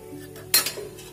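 A spoon stirs rose water into warm sugar syrup for gulab jamun, giving one sharp clink against the pot followed by a brief soft scrape, close by and with no talking.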